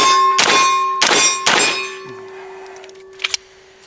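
Magazines for a PSA Jakl 9 pistol dropping free onto a hard surface: three loud metallic clangs in quick succession with a sustained ringing tone, followed by a couple of fainter clicks.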